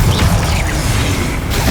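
A short, loud whooshing burst of spell magic from Hogwarts Legacy, heavy and booming in the low end, with a brief crackling swell that tails off after about a second.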